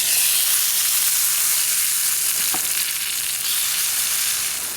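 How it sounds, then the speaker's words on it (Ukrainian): Onions sizzle in hot oil outdoors by a river, with a steady, loud crackling hiss, with one brief scrape of a utensil partway through. "давайте кинемо цибульку. Нехай смажиться"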